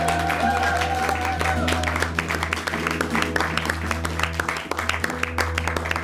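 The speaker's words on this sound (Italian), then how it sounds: "Marta e Samuele, un grosso applauso!" Sustained crowd applause in an ice rink for figure skaters over sixty, steady clapping with a low hum beneath and an announcer's voice briefly heard.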